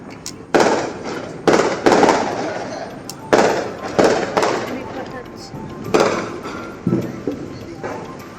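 Firecrackers burst at a house across the way, loud sharp cracks in irregular clusters of two or three with echoing tails, over a steady outdoor background.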